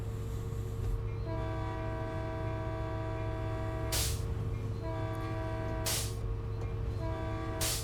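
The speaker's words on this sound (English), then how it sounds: "I am not timing my horn very well" A diesel locomotive's multi-chime horn in the Train Sim World game on the Oakville Subdivision sounds in long and short blasts over a steady engine rumble, loud and close, with no talking.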